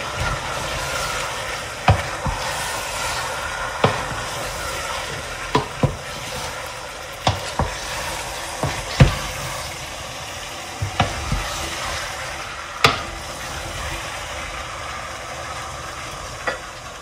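Moussaka mixture with potatoes and savory cooks in a pan with a continuous sizzle, punctuated by repeated scraping knocks of a spoon stirring every second or two.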